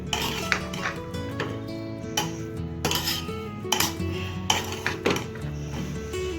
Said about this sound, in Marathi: थोडीशी कोथिंबीर घालायची आणि हलवून घ्यायचं